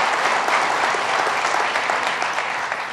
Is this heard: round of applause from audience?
yes